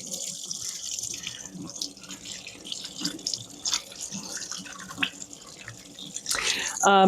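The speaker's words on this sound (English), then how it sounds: "Okay, wash my hands." Hands being washed under a running kitchen sink tap, a soft continuous trickle and splashing of water with faint clatter, rising to a louder gush at the end.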